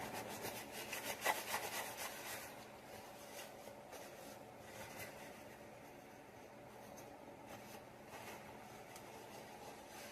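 Something is rubbed firmly into a leather belt loop by hand, giving soft, faint scraping and friction strokes that repeat irregularly through a quiet background.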